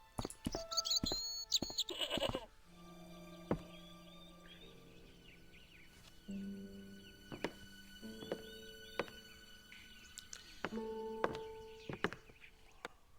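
A goat in the video game Broken Sword: Shadow of the Templars bleats in short bursts among game music tones and occasional thunks, the calls fairly clear and close.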